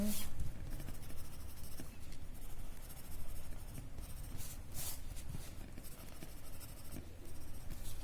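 A graphite pencil shades on paper in close, continuous scratchy strokes, with short brisk bursts repeating throughout.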